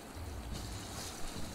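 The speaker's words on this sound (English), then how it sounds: "If you run, you press X and you slide down the waterfall." Rushing water and splashing as a character slides down a waterfall in Monster Hunter World: Iceborne, a steady broadband wash with wind-like noise throughout, fairly close and without speech.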